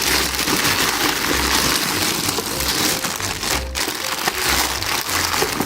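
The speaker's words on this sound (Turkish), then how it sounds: "Bakalım şimdi poşetini çıkaralım." A plastic bag is pulled off the parts of a Karaca dough mixer, giving close, dense crinkling and rustling that continues steadily throughout.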